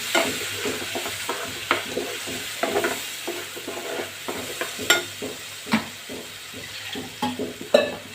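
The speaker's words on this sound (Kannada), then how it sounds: "ಈಗ ರುಬ್ಕೊಂಡಿರೋಂಥ ಮಸಾಲೆನ ಹಾಕ್ಕೊತಾ ಇದ್ದೀನಿ" Ground masala paste frying in hot oil for paneer tikka masala gravy gives a close, steady sizzle, broken by repeated scraping stirs of a spoon in the pan. No voices.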